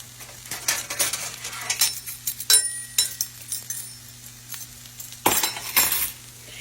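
A spoon clinks and scrapes repeatedly against a bowl while onion powder and Italian seasoning are mixed, a run of close, bright taps and rattles with short pauses, no talk.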